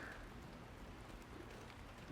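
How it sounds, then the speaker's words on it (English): Heavy, monsoon-like rain falls outside at night in a steady, even hiss with no breaks, soft and distant, and nobody talks over it. "This rain, though, gosh, I almost couldn't step outside."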